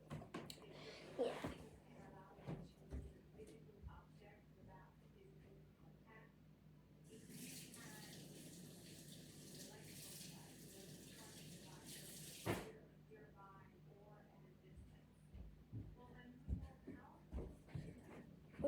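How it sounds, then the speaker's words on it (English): A kitchen tap runs for about five seconds while sticky hands are washed, a steady rushing stream with splashes that starts and stops abruptly, surrounded by quiet voices talking before and after. "I'm gonna wash my hands because they're sticky."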